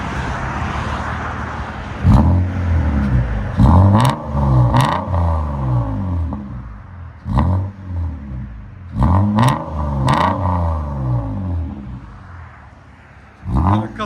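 A 1994 Toyota Mark II Chaser with a Vibrant resonator exhaust revs repeatedly, its engine note sweeping up and falling back in several loud, close pulls over a steady idle rumble.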